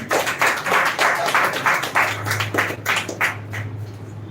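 A few people clap in an uneven rhythm, distinct individual claps at close range, thinning out and slowing as a low hum rises.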